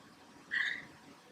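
A pet cat lets out a single short meow, quiet and close, over a low background hum with no other sounds.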